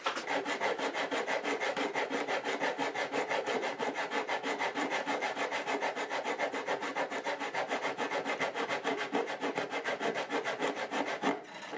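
Rapid, rhythmic rasping strokes of sanding on a wooden guitar back continue steadily and close up, stopping briefly near the end.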